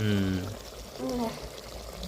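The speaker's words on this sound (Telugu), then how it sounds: "సరే వాటర్ పోసేసుకుందాం" Water pours into a pot of spicy Telangana-style curry while it cooks, a short splashing stream that sounds close. Someone speaks over it.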